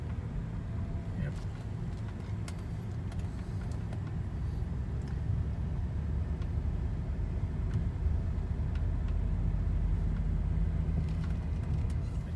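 A used, high-mileage 2007 BMW 530i drives along, its steady low road and engine rumble filling the cabin continuously with faint ticks over the top.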